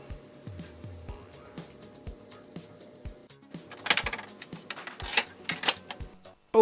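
Retro home computer tape drive being loaded with a cassette: a run of soft mechanical clicks and clunks, then louder rattling handling noise and a final sharp clack, close and alone without voices.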